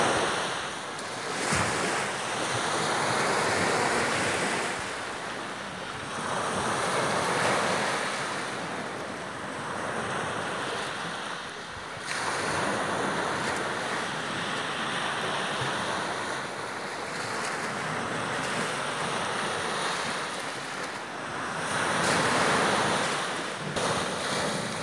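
Sea waves roll in against the shore along a trail to a lighthouse, swelling and receding in slow surges. Steady wind buffets the microphone throughout.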